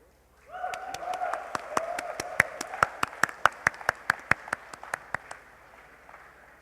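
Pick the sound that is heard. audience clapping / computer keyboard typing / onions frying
audience clapping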